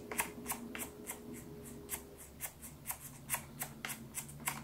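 Rapid ticking from the volume wheel of a Corsair K95 RGB Platinum keyboard as it is rolled, a fast irregular run of light crisp clicks, close and quiet over a faint low hum.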